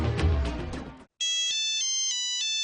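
A telephone rings with a bright electronic warble that repeats in quick pulses right after a loud burst of other noise cuts out, close and fairly loud.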